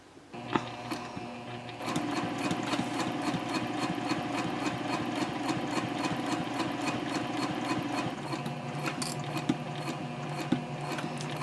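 A sewing machine stitches slowly around a curve on a tote handbag, a steady rapid mechanical chatter of needle strokes, close and continuous with a few brief pauses.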